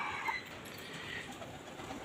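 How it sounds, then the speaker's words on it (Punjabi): Pigeons heard in a loft or rooftop setting, soft murmuring coos and fluttering under a steady outdoor background, fairly close and continuous. "ਮਿੱਤਰੋ ਕਬੂਤਰ ਆਪਣੇ ਆ ਰਹੇ ਨੇ"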